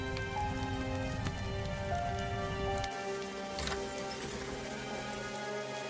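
Heavy rain falls at night in a steady, soft patter that goes on throughout, with a single brief knock partway through.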